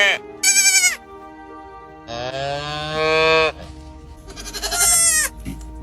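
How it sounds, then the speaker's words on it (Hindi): Goats bleat and cows moo in a Himalayan village pasture, several loud, close calls in separate bursts with quieter pauses between them. "गाय और बकरी की आवाज"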